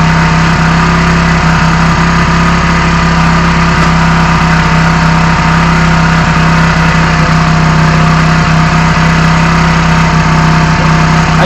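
A motorcycle engine idles steadily while its carburetor RPM is adjusted, a loud, continuous low rumble with even vibration and no change in pace throughout.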